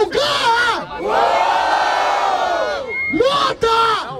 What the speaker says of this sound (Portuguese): Barulho para as rimas do Gá!